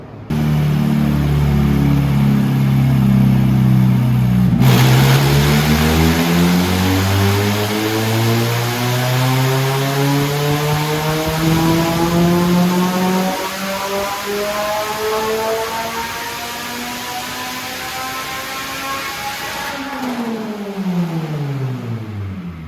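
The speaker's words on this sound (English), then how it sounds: "All right, all done with the extremely loud dyno pulls." Honda K-series engine car on a dyno, one long loud pull whose harmonic pitch climbs steadily to a high rev, then drops and cuts off, very close and alone.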